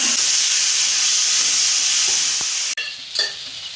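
Cauliflower sizzles loudly in a hot pan with garam masala and tomato ketchup for chilli gobi masala dosa, a dense, steady frying hiss close up that cuts off abruptly near the end, leaving quieter stirring.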